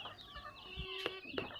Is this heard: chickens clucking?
yes